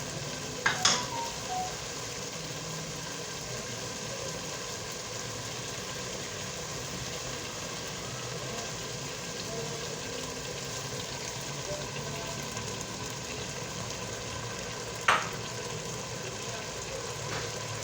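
Grated carrot halwa cooks in ghee in a pan, giving a steady soft sizzle and scraping stir with a couple of brief clanks, no talk.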